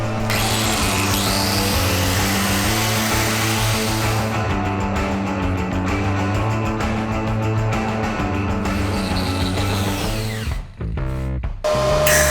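A flap-disc sander whirs loudly and continuously for several seconds on car body rocker panel repair, with a grinding edge, before briefly cutting out and starting again.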